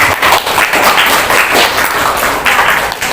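A class of students claps together in a brisk, continuous burst of applause lasting a few seconds, fairly loud and close.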